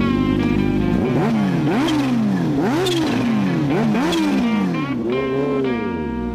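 A motorcycle runs close by with repeated sharp revs that rise and fall in quick succession, loud and alone before easing into a steadier drone.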